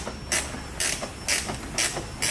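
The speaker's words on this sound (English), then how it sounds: "finally tighten the bottom screw" A screw being tightened on the front mudguard of a 2018-2024 Toyota Camry, with four short, evenly spaced ratcheting clicks up close and no talk.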